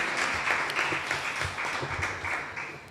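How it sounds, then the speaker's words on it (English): A conference audience applauds steadily at a regional community resilience gathering, dense clapping sustained evenly throughout without voices on top. "Let's give her another round of applause."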